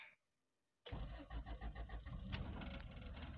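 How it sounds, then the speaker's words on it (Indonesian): Near silence, then a 1991 Honda Accord Maestro engine cranks and catches with a burst of rhythmic pulses before settling into a steady, loud idle. "Kemudian kita nyalakan dulu mobil ini"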